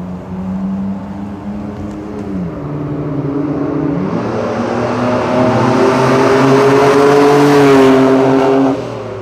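A Nissan Skyline R34 inline-six engine revs up loudly, its pitch dipping then climbing into a smooth, sustained high-revving roar before cutting off near the end.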